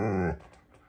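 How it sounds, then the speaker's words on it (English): A husky gives a short vocal whine-bark that drops off abruptly into quiet, followed by faint breathy whimpering sounds, close and brief. "Why you bark so loud?"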